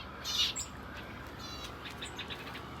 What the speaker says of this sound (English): he's got some weavers, parrot finches, masked finches, shaft tails